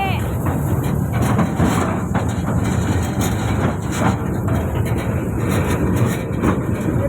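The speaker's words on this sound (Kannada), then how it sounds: "ರಿಯಲ್ ಟ್ರೈನಲ್ಲಿ ಇವತ್ತು ನಾವು ಹೋಗ್ತಾ ಇದ್ದೀವಿ" Riding aboard a train at a park, a loud, continuous rumble fills the space with rhythmic rattling and clatter from the carriages, with no pauses.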